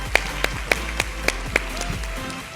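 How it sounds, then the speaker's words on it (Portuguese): Scattered, sparse applause from a conference audience welcoming women executives and specialists onto a stage, a handful of distinct claps spaced out over a low steady hum. "Recebam essas grandes mulheres com uma calorosa salva de palmas."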